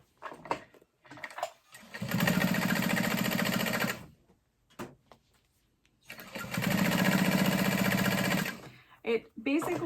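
Sewing machine top stitching a fabric backpack strap, two sustained runs of fast, even motor-driven stitching a few seconds each, separated by quieter handling noises and brief pauses.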